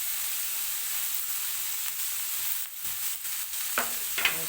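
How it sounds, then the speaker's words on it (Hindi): Shredded cabbage sizzles and hisses steadily in a hot pan while it is stir-fried, with a few scraping stirs and small spatters near the end and no talk. "तो अब हम इसमें डाल देते हैं बंद गोभी"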